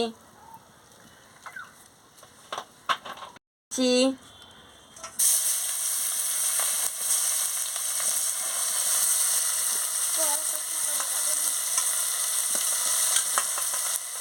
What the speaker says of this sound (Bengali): তেল দিয়ে দিচ্ছি